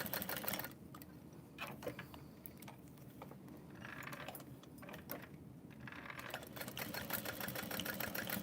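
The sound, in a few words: sewing machine stitching a bag strap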